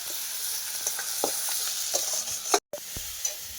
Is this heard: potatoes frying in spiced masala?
yes